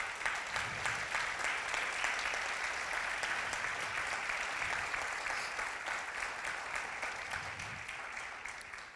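A church congregation claps loudly and steadily in a sustained burst of applause that fills the room, tapering slightly toward the end, with no talk over it.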